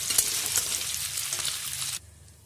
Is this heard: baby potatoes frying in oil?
yes